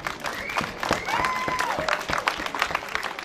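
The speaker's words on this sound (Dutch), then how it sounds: "Een hartelijk applaus." An audience applauding at a carnival-style event in Antwerp as a prince and princess are presented, dense clapping throughout with a whistle sliding up and down over the crowd.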